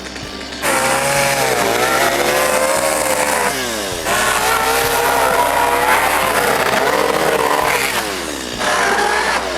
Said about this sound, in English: See, that's a chainsaw.